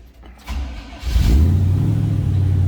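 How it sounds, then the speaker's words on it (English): A 1949 Chevrolet 3100 pickup street rod engine cranks and catches, then settles into a loud, steady rumbling idle close by. "Let's go ahead and fire it up."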